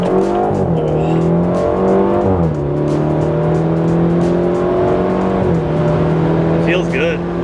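A tuned BMW 330i F30 with a Bootmod3 stage 1 flash accelerates hard at full throttle, engine note climbing loud and close through several gear changes, with people talking inside the car.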